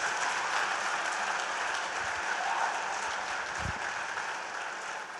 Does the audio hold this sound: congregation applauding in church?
yes